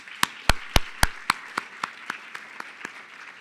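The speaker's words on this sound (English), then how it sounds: "a big round of applause for all our panelists" An audience claps for the panelists at a winter symposium, a short burst of loud hand claps that thins into scattered, fading claps over a few seconds.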